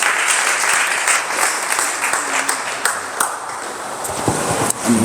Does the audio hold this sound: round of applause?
yes